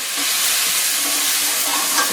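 Bombay potatoes frying in a pan with a splash of water added, giving a steady, close, dense sizzle and hiss of steam that holds evenly throughout with no talking.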